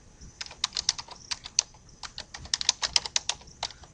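Irregular bursts of crisp, close keystrokes on a computer keyboard as registration details are entered, with short pauses between runs and a quiet background.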